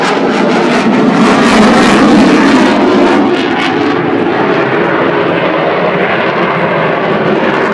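A fixed-wing aircraft with its landing gear lowered roars past at the Southport Air Show, a loud, continuous engine rush that swells and then eases slightly as it passes.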